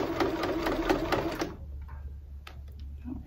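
A sewing machine runs back over an existing topstitch on fabric for a scissors holder, giving a close, rapid mechanical stitching whir for about a second and a half before it stops, leaving faint light clicks.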